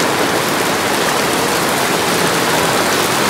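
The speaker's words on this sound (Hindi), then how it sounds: "यहाँ बारिश बहुत तेज शुरू हो चुकी है" Heavy rain falls on a Tibetan market in Mussoorie, pelting plastic sheets stretched over the stalls. The hiss is dense, loud and unbroken, with no voices.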